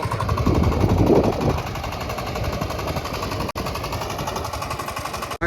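A tractor engine runs in a field at sowing time with a loud, steady, rapid chugging throb that continues throughout, close by, with a brief dropout near the end.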